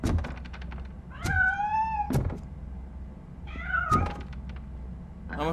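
A cat meows twice inside the RoboCop: Rogue City video game, each call a clear, drawn-out mew with rising and falling pitch. Soft thumps and clicks sit between the calls over a low steady game hum.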